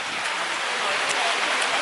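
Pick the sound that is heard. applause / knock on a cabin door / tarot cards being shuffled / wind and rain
wind and rain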